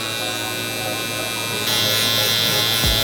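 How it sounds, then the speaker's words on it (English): Steady electric buzz of a zero gap hard trimmer held close while cutting a mid fade, loud and continuous for the whole stretch, brightening and growing slightly louder midway. "we're gonna go in with our hard trimmer, which is our zero gap trimmer, almost all the way to the top"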